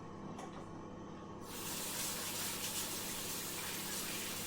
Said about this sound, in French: J'ai plus qu'à me rincer les mains.